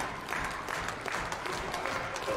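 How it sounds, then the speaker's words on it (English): Spectators at an indoor independent pro wrestling show in Sedalia, Missouri clap and cheer in a continuous wash of applause, steady and moderately loud, with scattered voices mixed in. "Derek Stone trying to rally the crowd behind him"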